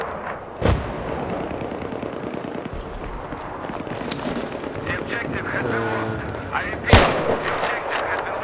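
Sniper rifle shots in Battlefield 3 on the Tehran Highway map, two sharp loud cracks a few seconds apart over a windy, rumbling battlefield background.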